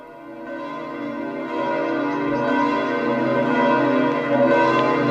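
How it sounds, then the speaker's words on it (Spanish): Large church bells of St. Peter's Basilica ring out over St. Peter's Square in Rome, a loud, sustained resonant peal with overlapping strikes swelling and lingering throughout. "el tañido de las campanas de la Basílica de San Pedro"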